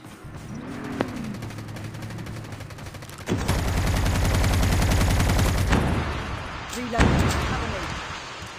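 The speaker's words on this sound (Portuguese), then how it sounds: "Minha torreta funcionou." A deployed turret firing in a video game, a dense rapid burst of machine-gun-like shots running for roughly two and a half seconds, loud and close, with scattered single thumps before and after.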